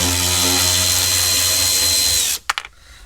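A power tool undoes dashboard bolts on a Mercedes CLK W209, whirring loudly and steadily up close for about two seconds before it stops with a few sharp clicks.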